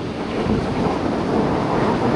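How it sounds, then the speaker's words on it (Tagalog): Rough seas pound a storm-battered beach resort in a loud, continuous roar of surf, with heavy wind buffeting the microphone. "Grabe yung dagat, oh."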